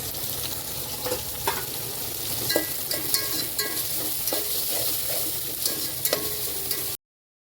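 Whole cloves, black pepper, cardamom, a cinnamon piece and star anise sizzle in hot oil for a prawns pulao, making a steady close crackle with scattered sharper pops and stirring clicks and no talk.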